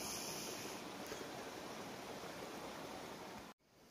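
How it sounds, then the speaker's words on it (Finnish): Forest streams flowing steadily through woodland, a continuous broad rushing of water heard alone, with no voices, cutting off abruptly near the end. "Erinäisiä puroja ja virtoja riittää täällä metsän siimeksessä."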